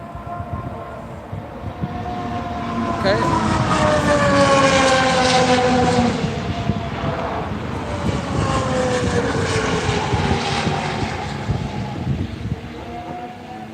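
A Formula 1 car at Barcelona testing screams past with a high, jet-like snarl, rising and falling in pitch as it approaches and recedes, loud and close, with a second swell following; a brief spoken word.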